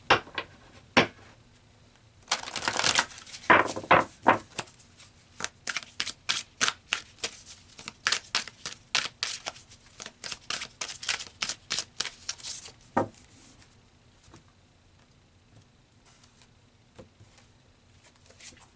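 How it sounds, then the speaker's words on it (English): Tarot cards are riffled and shuffled in a dense flurry of papery slaps and flicks that runs for around ten seconds, then a single card snaps down before the sound settles into near silence. "So let's pull some more cards"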